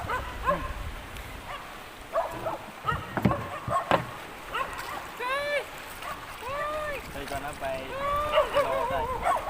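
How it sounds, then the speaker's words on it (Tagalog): A dog barks several times at a distance amid outdoor noise, with people talking and a few splashes nearby. "may sumasalubong pa nga sa aming aso guys"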